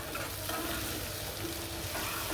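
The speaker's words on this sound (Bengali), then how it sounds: "টমাটোটা একটু ভেজে নিতে হবে" Chopped tomato fries in a pan for fish kofta curry, a dense, continuous sizzle with scraping stirs, close and fairly loud, no voices.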